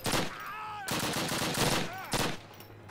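Rapid gunfire in a Call of Duty battle at a train yard, continuous loud shots and bursts with whizzing sounds over about three seconds.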